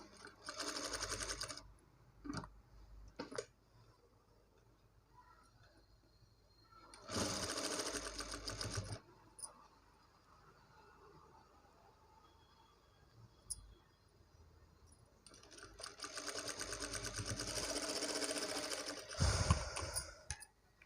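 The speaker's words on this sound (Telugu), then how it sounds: "ఇప్పుడు మనము 2 వైపులా ఇలా అయితే స్టిచ్ చేసుకున్నాం కదా." Sewing machine stitching blouse fabric, with several bursts of rapid mechanical whirring and clatter separated by quiet pauses and faint clicks, close and clear.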